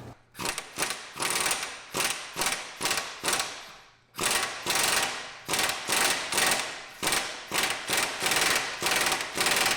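An air impact gun tightens the axle nut on a 2008–2020 Grand Caravan in loud, rapid rattling bursts that repeat steadily, with one brief pause partway through.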